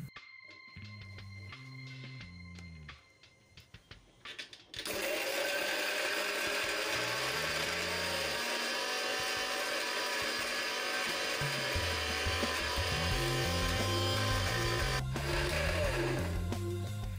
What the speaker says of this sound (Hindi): हमें थोड़ा सा दूध डालकर बादाम को ब्लेंड कर लेना है